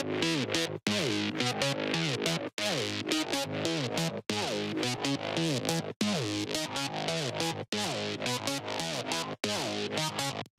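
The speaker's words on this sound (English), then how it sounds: "I added a chorus and a dimension to have a little bit more of a rich character before we go into the distortion" A synth lead played through chorus, dimension and distortion effects: a gritty, buzzing tone in repeated phrases with downward-sliding pitches, separated by short regular gaps, loud and alone with no talk.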